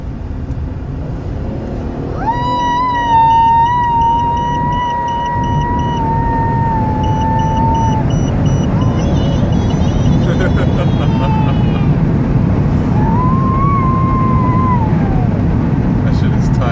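A car engine rises in revs and holds there as the air conditioning is switched on, with a steady whine climbing in pitch over a continuous close engine drone; it stays loud throughout.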